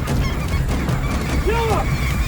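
Snow geese honk during a hunt, their calls rising as looping cries over a steady low rumble of wind and field noise, fairly close.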